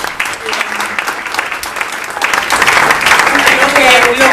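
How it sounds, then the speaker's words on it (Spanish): A seminar audience on health organization management bursts into sustained applause, the dense clapping swelling louder toward the end with voices mixed in. "pido un aplauso para los dos"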